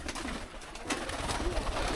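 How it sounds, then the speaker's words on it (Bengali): Pigeons coo near a coop set up on top of a house, with continuous nearby throaty cooing layered with light rustles and faint background noise. "এক এক করে বেরোচ্ছে কবুতর"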